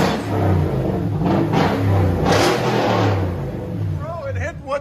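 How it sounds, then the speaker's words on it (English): A 2017 Toyota Tundra 5.7L V8 with a muffler delete rumbles loud and close, its exhaust swelling in a few revs while people talk over it. "There's a muffler delete. We'll let you guys hear it in a second"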